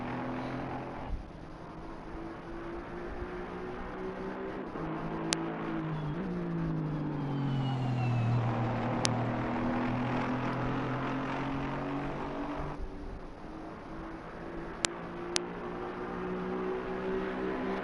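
A racing video game car engine on PS4 drones steadily for a long stretch, its pitch sliding down then climbing again as it revs, with a few sharp clicks.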